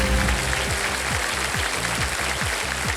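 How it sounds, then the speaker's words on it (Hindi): A TV quiz show audience claps steadily, a dense, even burst of applause from a crowd that holds for about three seconds with no voices over it. "सबसे पहले जो ताली बजी वो उधर से बजी है।"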